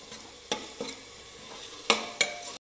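Chopped tomato sautéing in a pan over garlic paste for mutton curry, with a steady low sizzle broken by several sharp scraping stirs of a spoon, close and alone.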